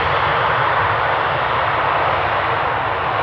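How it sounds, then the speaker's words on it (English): An ITA Airways airliner from Rome touches down gently at Amsterdam Schiphol, heard as a loud, steady roar of engines and rushing air with no break. "Very gentle touchdown"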